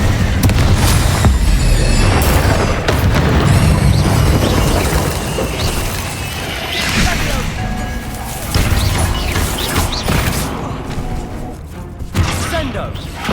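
In Hogwarts Legacy, Incendio fire spells go off amid dense, loud combat with crashing bursts and booms. The blasts come one after another without a break, and distant voices mix into the din.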